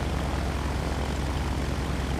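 Freeware Cessna 310 twin-engine propeller airplane in the flight simulator FSX, with a steady, loud, continuous engine and propeller drone holding an even pitch throughout, with no talking.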